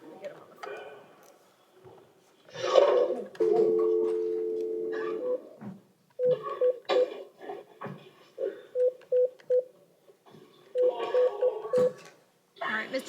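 A telephone dialing a number in a courtroom, a long held tone followed by a string of short, evenly spaced keypad beeps in bursts, with people talking quietly between them.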